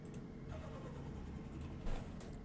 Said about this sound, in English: Alright, we're on the dyno now. Get it started.